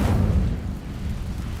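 Casting the Incendio fire spell in Hogwarts Legacy on PC gives a brief deep whoosh and rumbling burst that swells at once and then fades into a low lingering roar.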